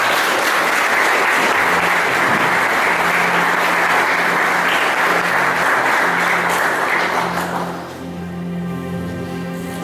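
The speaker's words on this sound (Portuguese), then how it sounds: "Aplauda Jesus Cristo." A church congregation applauds loudly and continuously for about eight seconds, a thick roar of hands over a sustained organ or keyboard tone, before the clapping fades and the instrument carries on.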